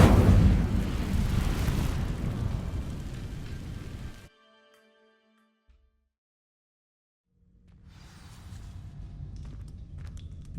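Incendio fire spell igniting dry vines in Hogwarts Legacy, a loud, roaring crackling whoosh of flame that stops abruptly into near silence, then a quieter burning rumble returns.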